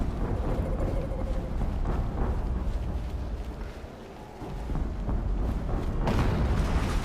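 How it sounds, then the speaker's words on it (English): Explosion in the video game Horizon Zero Dawn: a loud, sustained deep rumbling roar that dips briefly in the middle, then swells again, heavy and dense throughout with no voices. "An explosion."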